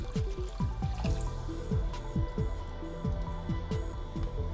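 Bubbly gurgling of water being poured into a pan of lemon balm leaves and sugar, a quick series of rising glugs and drips, close and fairly loud.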